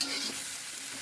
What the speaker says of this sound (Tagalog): Halo-haluin natin muna guys para mahalo yung